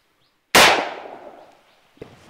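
A soldier's rifle gunshot during Assam Rifles training against an enemy line position: one sharp, loud crack with a long decaying echo, followed by a smaller impact about a second and a half later.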